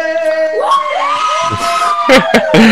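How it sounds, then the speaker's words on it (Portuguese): Guests at a civil wedding ceremony cheer and whoop, a dense burst of crowd shouting and cries close by, with voices rising over each other throughout. "Tem torcida, olha aí."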